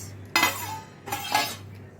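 A metal lid clinks onto a pot of simmering chicken, two bright clattering contacts about a second apart, close and clear in a quiet kitchen.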